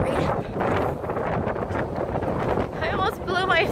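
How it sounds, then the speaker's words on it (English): Strong outdoor wind buffets the microphone in a continuous, loud rumbling roar, with a voice talking underneath. "It's so windy."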